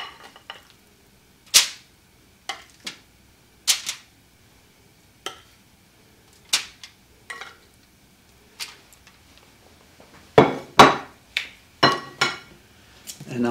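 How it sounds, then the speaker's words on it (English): Barbecue chicken pieces are moved one by one into a metal baking pan, giving scattered sharp clanks and clinks of varying loudness with short quiet gaps and a busier cluster near the end. No one speaks. "I'm going to transfer these into a pan that I can put into the oven"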